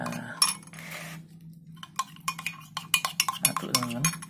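A spoon stirs and scrapes parakeet feed porridge in a bowl, producing repeated close clinks and scraping strokes in an irregular rhythm, louder toward the end.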